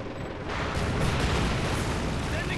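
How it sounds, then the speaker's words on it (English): A light artillery barrage in the World War II strategy game Company of Heroes 2 rumbles as a dense, sustained roar of explosions, loud and steady throughout, with speech faintly underneath. "that must be the light artillery barrage that we're throwing in these guys"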